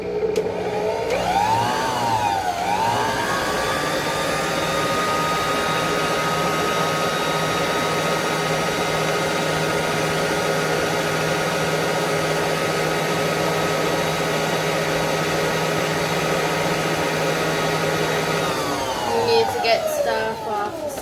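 An electric mixer runs steadily for about twenty seconds, beating ingredients together in a home kitchen, with a loud continuous motor whine that starts up and winds down at the ends.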